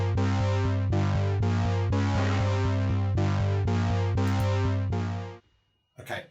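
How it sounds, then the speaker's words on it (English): A live-coded electronic bass loop made in Sonic Pi pulses in steady, even notes with a deep sustained low tone, loud and close, then stops abruptly as a brief voice begins. "So now we've got this bass going in the background."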